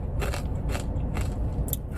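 Dollar Tree potato chips crunch loudly and close in a steady rhythm of about four bites over two seconds, with no talking.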